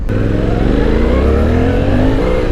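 Suzuki V-Strom 800 DE motorcycle accelerating hard, a loud, close, continuous engine roar rising steadily in pitch as it pulls through the revs, alone with no talk.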